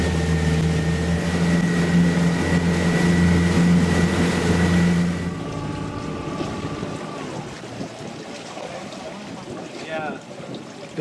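Cruise excursion boat engine in Mexico, a steady loud low drone with rumbling hum for about five seconds, then dropping off to quieter water and wind noise outdoors.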